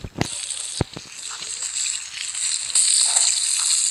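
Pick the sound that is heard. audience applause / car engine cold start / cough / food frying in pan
food frying in pan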